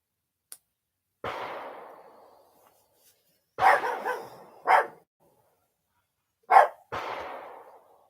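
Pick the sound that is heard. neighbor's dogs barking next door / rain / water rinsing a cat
neighbor's dogs barking next door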